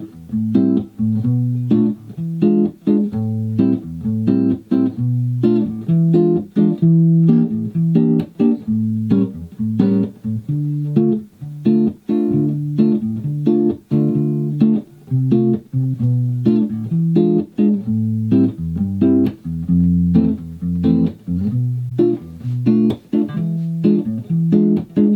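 Jazz guitar plays the chord changes of a tune's B section, with steady strummed harmonic chords in a continuous even rhythm, clear and close, with no talking.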